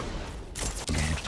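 Railgun and lightning gun fire trade back and forth in a fast arena duel between two players, heard as dense bursts of crackling, zapping shots with a brief gap before a renewed volley, loud and close.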